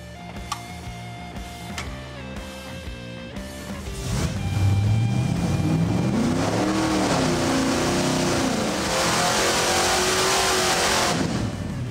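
A 600-horsepower engine running on a dyno, loud and rough, with rising and falling rev sweeps and a heavier, sustained roar building midway through.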